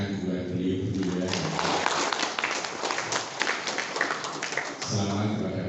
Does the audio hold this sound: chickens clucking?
no